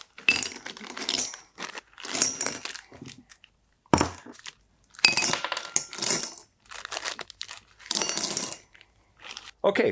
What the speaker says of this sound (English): Let's go ahead and put these directly into these little magnetic dishes.